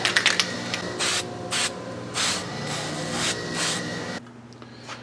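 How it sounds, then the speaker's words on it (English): Gasket sealant sprayed from an aerosol can onto a part of a Ford 351M engine during assembly, in several loud, close hissing bursts of about a second each with short gaps between, ending in quiet background hum. "Little spray gasket on this thing."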